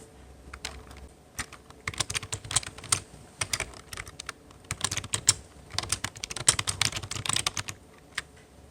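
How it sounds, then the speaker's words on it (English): Rapid clattering keystrokes on a computer keyboard as text is typed, arriving in irregular bursts with brief pauses, close and clear, with no voices. "You can type your text here."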